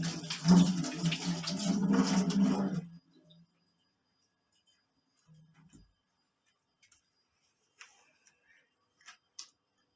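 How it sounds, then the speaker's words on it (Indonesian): Hands are washed under a running tap: about three seconds of loud, close splashing water that stops abruptly, then near silence with a few faint ticks and knocks. "Kita cuci tangan dulu."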